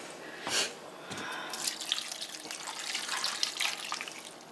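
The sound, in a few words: water poured into a cup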